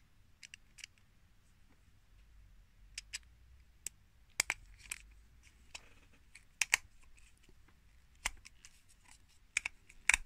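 A small screw driven into a plastic part of a KITT model car, through a ratcheting driver: sparse, sharp little clicks in irregular bursts, close and quiet, with no talking.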